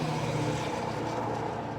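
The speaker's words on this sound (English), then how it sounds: "Nice truck going by." A truck passes on a busy road. It makes a steady, broad engine rumble at moderate distance, with no speech.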